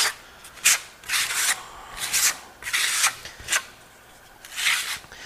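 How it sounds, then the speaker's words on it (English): A spatula spreads Marmorino lime Venetian plaster across a wall, making repeated soft scraping swipes in an uneven rhythm, close and moderately quiet, with short pauses between strokes. "Take the spatula, gather it up. You always want to work the blades."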